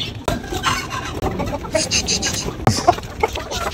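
Aseel chickens being shut into a new cage cluck and squawk close by in irregular bursts, several birds calling over one another with some rustling and movement.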